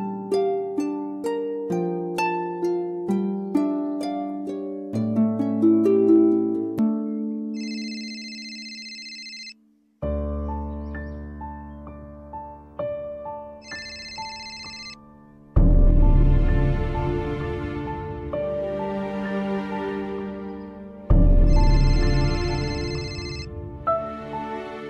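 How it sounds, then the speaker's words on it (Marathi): A phone rings in a Marathi TV drama scene, its melodic ringtone repeating through the background music with bright chirpy bursts recurring, sustained and fairly loud throughout. "वेद फोन उचल."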